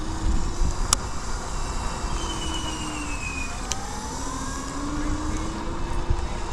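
An Apollo Pro flagship electric scooter being ridden: a rising and falling motor whine over heavy rushing wind noise, close and steady throughout.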